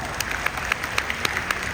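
An audience applauds during a speech at an honours event, with a short burst of steady clapping at moderate loudness and individual claps standing out in an even rhythm.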